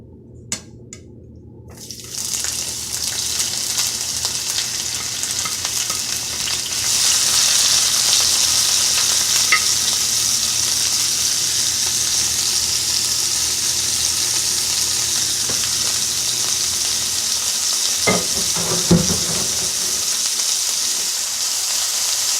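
Vegetables sauté in about a tablespoon and a half of grease in a pan, starting with a sudden hiss that settles into a loud, continuous sizzle, with a few faint utensil clinks near the end.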